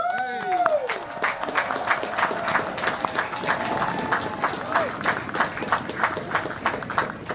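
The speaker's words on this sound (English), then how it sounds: "Class of 2020, one more time, round of applause." Dense clapping from a large crowd at the West Point commencement ceremony fills the whole stretch, steady and loud, with a voice speaking over it early on.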